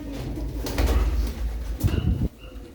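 Racing pigeons coo in low, throaty bursts close by, a few rolling calls over a couple of seconds.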